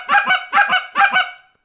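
Goose call blown as a high cluck, three loud, close double-note honks in quick even rhythm, sounding much like a real goose; alone, with no talk.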